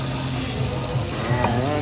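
Chicken and shrimp stir fry at Black Rock Bar & Grill sizzles steadily in a hot pan, a loud, continuous frying hiss with faint stirring and a background hum.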